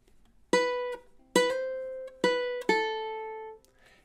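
Ukulele picking a syncopated melody measure in time, four plucked notes with uneven spacing, each ringing briefly, close and clear without speech.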